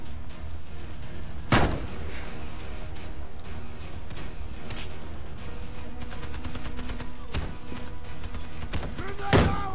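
Smoke grenades are thrown over and over during a Warface tower raid, with dull thumps and pops rising over a constant din of distant gunfire and battle noise. A voice talks over it.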